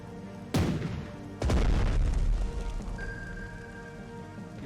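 Warship main guns fire in the naval strategy game Strategic Mind: The Pacific, two heavy booms a second apart, each trailing into a long rumbling, crackling decay under faint ambient tones.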